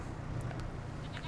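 Goats on a snowy winter farm bleat in a couple of brief, high calls over a steady low rumble, fairly faint and a little distant, with no one talking.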